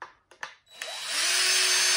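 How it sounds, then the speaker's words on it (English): A power drill bores holes into the black lower portion of a PLC operator panel, with a couple of brief clicks and bumps before the motor spins up to a loud, steady whine that holds to the end. "we're going to have to drill a couple holes in the bottom of the black"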